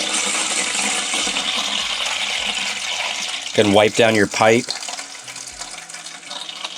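A toilet tank refills through its fill valve after the water supply is turned back on, giving a constant hissing flow throughout, briefly overlaid by someone speaking midway.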